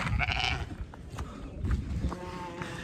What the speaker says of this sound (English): We got a stampede coming down our first hill. Come on, sheep.